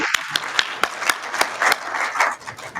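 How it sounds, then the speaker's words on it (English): Audience applause after a paper presentation at the NIME 2025 conference, a steady patter of many hands clapping with sharp individual claps standing out, moderately loud in a hall with no talk. "can we have another round of applause for this wonderful longevity paper?"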